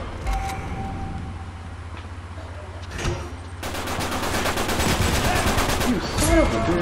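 AK rifle firing in the Uncharted 3 multiplayer game, scattered shots at first giving way to sustained rapid automatic bursts that grow louder and denser toward the end, with game sounds mixed in.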